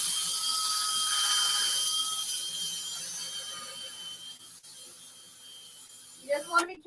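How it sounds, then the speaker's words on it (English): A drill fitted with a buffer attachment whirs steadily as it buffs plaster paint off wood, a high continuous whine that slowly fades, with a short scraping burst near the end. "So this is a buffer. You can put it on the end of your drill."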